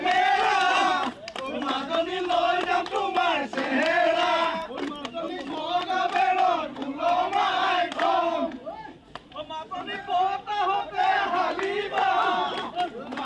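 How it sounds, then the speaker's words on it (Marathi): A crowd of BJP party workers in Charaideo, Assam, cheering and chanting in loud rhythmic waves of massed voices during an election-result celebration, with repeated surging shouts. "भाजप कार्यकर्त्यांचा हा जल्लोष आपण पाहतोय"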